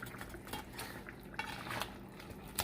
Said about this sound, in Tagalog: Ngayon, kakitsen, haluin lang natin ng konti.